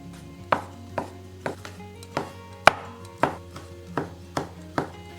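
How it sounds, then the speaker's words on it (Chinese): A knife chops dried scallops and dried shrimp on a board with about a dozen sharp, evenly spaced thuds, each ringing briefly, close and distinct with no talk. "接下来将瑶柱跟海米切碎"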